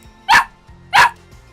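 A puppy barks twice in a room during a Minecraft session, two loud sharp barks spaced about two-thirds of a second apart, close to the microphone and with no talking.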